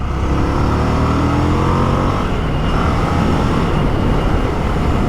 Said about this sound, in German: Aus 100 mal eine Vollbremsung.